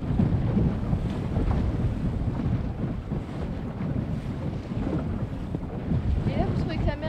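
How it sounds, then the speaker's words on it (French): Strong wind of about force 7 to 8 blowing at sea off Molène, a loud continuous broadband rush with buffeting on the microphone and rough water beneath, no clear speech. "On a quand même 7 à 8 beauforts de vent aujourd'hui."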